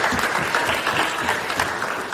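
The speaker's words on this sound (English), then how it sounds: "Everybody's clapping, but we're not done." An awards-ceremony audience applauds steadily, a dense wash of many hands clapping at moderate loudness with faint voices mixed in.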